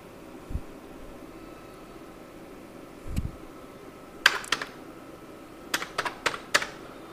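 Keys tapped on a computer keyboard while an OTP is entered: a couple of isolated presses, then two quick bursts of close, crisp clicks in a quiet room.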